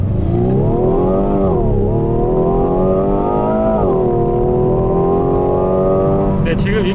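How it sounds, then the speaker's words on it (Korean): A Hyundai Veloster 1.6T-GDi in extreme mode accelerates hard from a standstill to 100 km/h, its turbocharged engine droning loud and close from inside the cabin, rising in pitch through gear changes. "지금 익스트림 모드로 제로백을 측정을 해봤는데요"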